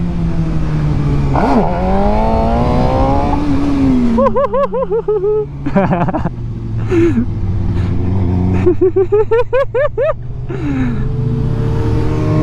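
A motorcycle engine revs hard under throttle, close and loud, with rising and falling pitch sweeps and sharp bursts of acceleration over steady wind noise.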